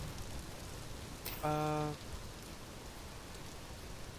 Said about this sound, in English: I can't be out in the rain too much